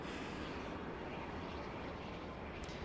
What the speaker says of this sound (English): There's that Cessna Citation XL